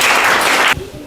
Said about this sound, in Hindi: रोशन कुमार के लिए भी एक जोरदार ताली होना चाहिए।